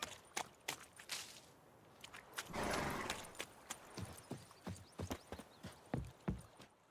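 A horse's hooves clip-clop at a walking pace in the video game Witcher 3, with steady, fairly close hoofbeats and a brief rush of movement partway through.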